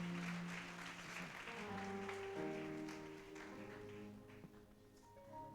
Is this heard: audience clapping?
yes